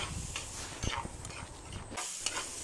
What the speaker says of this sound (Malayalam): പച്ചമുളക് ചേർത്ത് കൊടുത്ത് നമുക്ക് നല്ലതുപോലെ ഒന്ന് വഴറ്റിയെടുക്കാം